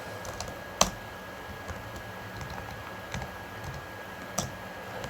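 Sparse keystrokes on a computer keyboard: a few isolated, faint clicks spaced a second or more apart over a quiet room background, no speech.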